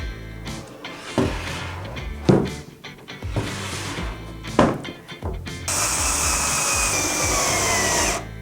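A power driver running screws into a Pangea Small PVC arboreal enclosure, close and loud bursts of whirring with clunks between them, then a steady sustained drive at the end.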